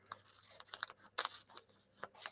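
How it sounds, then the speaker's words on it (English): Scissors snipping a single-layer plastic poly bag, a series of crisp, irregular close-up cuts with short pauses between them, alone with no talking. "let me just take a pair of scissors and just snip this up"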